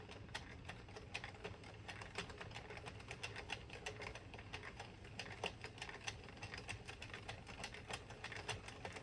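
A Sentro 40 needle knitting machine knits a child-size beanie, giving off a steady, fast, plasticky clatter of needles and a rattling crank that runs continuously at low level with no voices.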